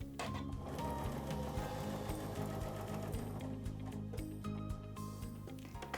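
A sewing machine fitted with an HP foot stitches fabric in a steady, rapid mechanical rattle, even and continuous at close range, quiet overall with no talking.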